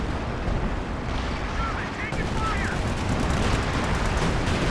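Artillery fire in the real-time strategy game Company of Heroes 2, a dense continuous rumble of distant booms and gunfire filling the whole stretch, with a voice faintly underneath.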